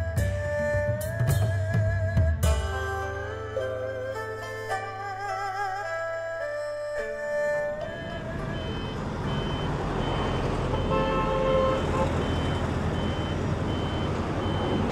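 Busy street traffic in Ha Long, Vietnam, with engines rumbling and several horns and beeps sounding near and far, a continuous dense roar throughout.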